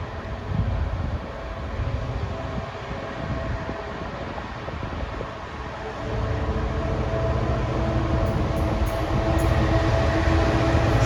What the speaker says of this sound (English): Next freight train is going to Birmingham New Street via the Sutton Park line from Bescot